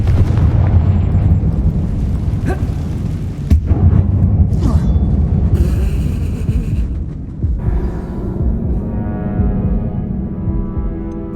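In Hogwarts Legacy, a Confringo fire spell bursts with a loud, deep, booming explosion whose rumbling roar fills the scene and slowly fades, with brief crackling impacts along the way.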